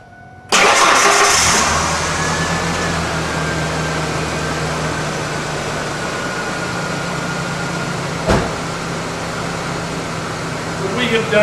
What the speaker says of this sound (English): What we have done here is we've restarted the engine.